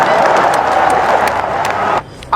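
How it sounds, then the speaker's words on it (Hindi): An audience at a Congress plenary session claps in a loud, dense burst of applause that lasts about two seconds and then cuts off abruptly. "ठोको ताली।"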